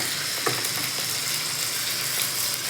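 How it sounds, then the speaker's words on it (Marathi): Chopped onion fries in a pan for a Marathi matki bhaji, giving a steady, close, even sizzle with faint stirring scrapes and no talk. "मस्त छान आता लाल लाल होतोय कांदा"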